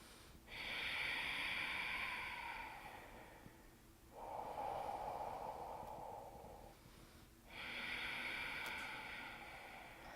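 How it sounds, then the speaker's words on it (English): Deep Ujjayi breaths during a yoga balance session, three long, slow, hissing throat-constricted breaths heard up close, alternating between inhale and exhale with short pauses between them. "we're cleansing the nervous system with this deep Ujjayi breath"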